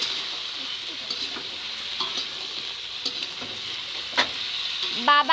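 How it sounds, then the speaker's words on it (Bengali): Onions are stirred as they fry in a pan, with a steady sizzle underneath and repeated spatula scrapes and small metallic clinks close by, plus a brief clatter at the end. "দেখেন এটাকে নেড়ে নিচ্ছি।"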